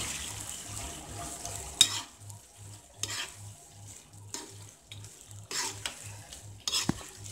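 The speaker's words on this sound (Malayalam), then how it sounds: "നമ്മൾ ഫ്രൈ ചെയ്തിരിക്കുന്ന കോളിഫ്ലവർ ഇതിലോട്ടൊന്ന് മിക്സ് ചെയ്ത് കൊടുക്കുക" Fried cauliflower is stirred into Manchurian gravy in a pan, with scraping strokes at irregular intervals over a quiet sizzle. A soft rhythmic hum pulses underneath, and there is no talking.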